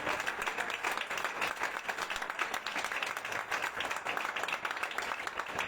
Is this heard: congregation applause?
yes